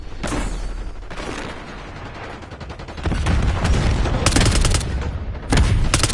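Gunfire in the war video game Sgt. Boom's Howitzer n Hellfire, loud rapid bursts and booming blasts that come in dense clusters and grow heavier partway through.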